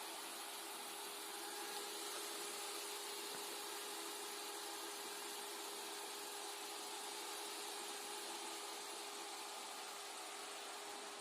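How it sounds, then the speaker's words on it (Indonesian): Karimun radiator cooling fan fitted to a Suzuki Esteem running on its thermoswitch, a steady broadband whir with a faint hum, constant and fairly close throughout with no talking. "thermoswitch sudah membaca suhu panasnya, otomatis kipas akan nyala lagi teman-teman"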